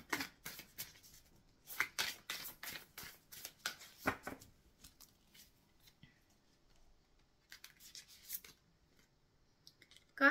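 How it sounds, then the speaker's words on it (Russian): Tarot cards are shuffled close and soft in bursts of rapid riffling and rubbing, then drawn with a few quieter flicks and a last snap. "рисуем карты"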